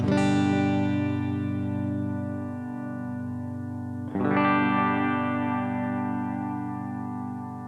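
A sustained chord rings out on a Fender Standard Acoustasonic guitar, then a sudden brighter, more distorted tone cuts in midway as it switches to its Shawbucker electric pickup and carries on, no voices.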